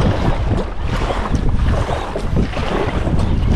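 A boat pushes across choppy lake water on a windy day near Edmonton, Alberta, with steady wind buffeting the microphone and constant engine and hull rumble mixed with splashing water.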